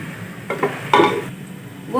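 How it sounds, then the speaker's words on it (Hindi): Golden fried onions are scooped from a pot onto a plate, with a few scraping clinks of a spoon against metal over a soft sizzle, brief and close. "थोड़े से प्याज निकाल लेंगे प्लेट में।"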